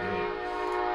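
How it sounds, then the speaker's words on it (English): Train horn sample in an Ableton Live music production session: sustained, loud chord-like horn blast with steady harmonic tones, heard alone without talking. "Train."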